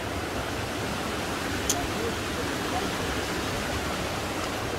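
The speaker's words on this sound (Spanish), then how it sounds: "Oye, pero está corriendo mucha agua, ¿eh?" A stream runs full and fast in the Oaxaca countryside near Tenexcalco, its rushing water producing a steady, broad, unbroken roar that stays constant throughout, with no voices rising above it.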